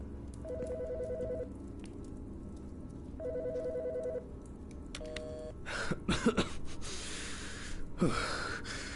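A telephone rings inside the Autopsy Simulator video game: two bursts of electronic trilling, then a brief beeping tone, followed by breathy rustling and a short gasp-like noise as the call is picked up.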